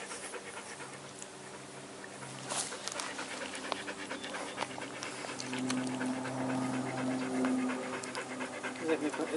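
Seventeen-day-old puppies smack and lap wetly while eating, a busy close-up mix of panting, slurping and soft whimpers, with people talking quietly over it.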